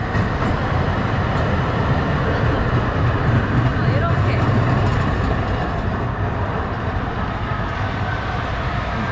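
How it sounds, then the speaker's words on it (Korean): A tram rumbles past close by, a loud continuous roar of wheels and motor with a faint rhythmic rattle, swelling mid-way and easing slightly toward the end. "이렇게 트램이 가고"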